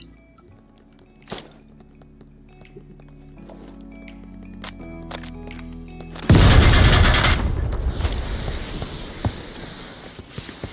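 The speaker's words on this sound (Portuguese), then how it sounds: "Vou jogar granada." In the VR shooter Onward, quiet tones and faint clicks give way to a sudden loud grenade blast that trails into a rumbling, crackling wash of noise.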